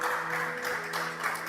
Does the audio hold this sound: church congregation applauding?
yes